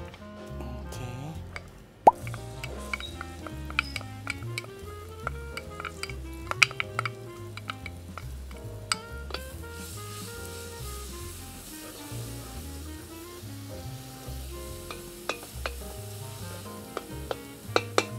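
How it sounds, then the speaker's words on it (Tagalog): Garlic browning in a pan for squash and string beans in coconut milk, sizzling steadily at moderate volume with frequent clinks of a utensil against the pan. "i-brown mo ng konti yung bawang before we put our sibuyas"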